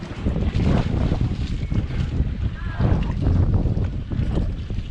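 Sea water surges at a harbour under a rock erosion protection project, pushed along by the wind, a loud, churning wash with heavy wind buffeting the microphone, alone without talk.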